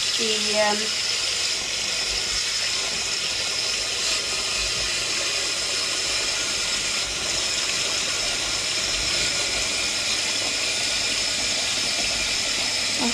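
Cold tap water pours over butter as it is rinsed clean, a steady, rushing hiss of running water that continues throughout, fairly close and even in level, with a brief clatter near the start.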